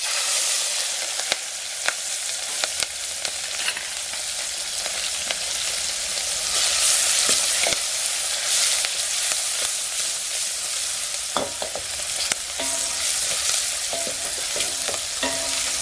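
Chopped onion and green chili pieces sizzle steadily in a hot pan, a continuous bright crackle with occasional sharp clicks of stirring, close and loud, with no talking.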